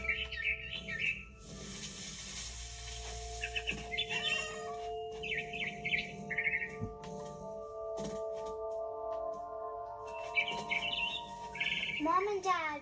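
A frightened bird from What Remains of Edith Finch chirps in short, high bursts that come in several separate flurries over a low, steady ambient hum.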